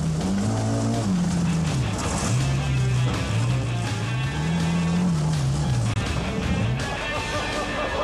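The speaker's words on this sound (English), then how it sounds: "now at the wheel of the Audi Quattro, still with Phil Short alongside him" An Audi Quattro rally car on a forest stage at the 1988 Welsh Rally, its engine rising and falling through gear changes under a commentator's voice.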